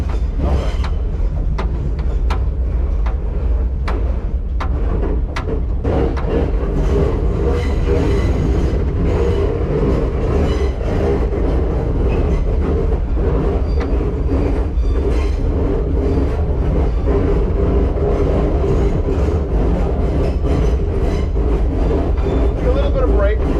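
An R9 subway car on a museum trolley line rolls slowly across a trestle, a steady loud rumble of wheels and running gear with repeated clicks and knocks throughout, carrying on alone without talk.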